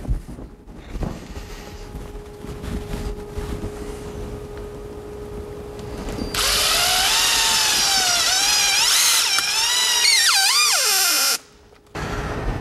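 A power drill drives hex-head screws to mount Polk Audio woofers, quiet at first, then a loud sustained whine with rising and falling pitch for several seconds before stopping.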